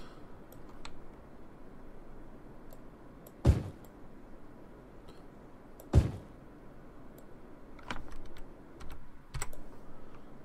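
Computer keys tap quietly at a scattered pace during a Cities: Skylines city-building game, with two sharper, louder key strikes standing out among the soft clicks, close and alone.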